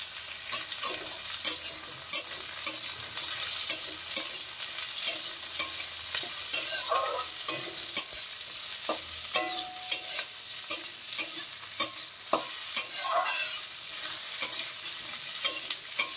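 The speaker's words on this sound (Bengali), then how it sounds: "এরপর দিয়ে দেওয়া হচ্ছে ক্যাপসিকাম" Capsicum stir-fried in a pan, a bright continuous sizzle with repeated scraping and stirring strokes of a spatula throughout, close and fairly loud, no voices.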